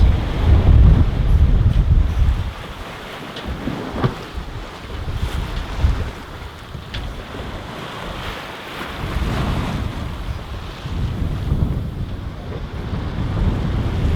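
Gusting wind buffets a sailboat at sea, with winds ranging from about 30 knots down to 10: a loud, rumbling roar that swells hard at the start, eases, then builds again, with water washing beneath it.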